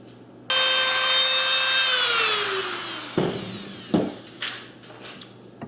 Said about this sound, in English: I'm going to have to use a little bit of sandpaper and a Dremel tool